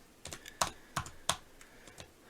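Sparse typing on a Razer Huntsman keyboard with linear optical switches: a handful of sharp, close clicks spaced irregularly, each one crisp and distinct against a quiet background.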